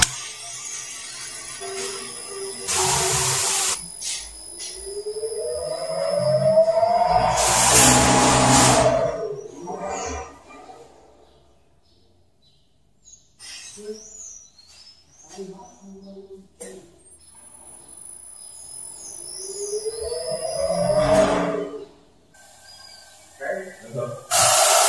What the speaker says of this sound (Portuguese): Essa bomba ela tem um inversor de frequência, que é o que controla a rotação dela.